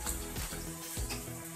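Onion, green chillies, carrot, capsicum and cabbage sizzle steadily in a hot pan, a close, continuous hiss with a couple of stirring scrapes.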